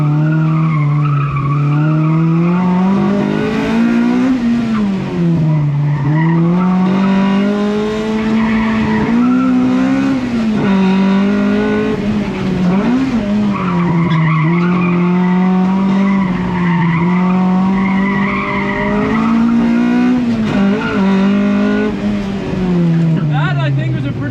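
A modified Honda CRX with toe-out alignment sliding through corners, its tires squealing continuously for the whole stretch with a wavering, rising and falling pitch, loud and close with the engine droning underneath.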